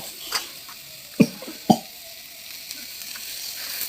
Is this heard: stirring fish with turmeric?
yes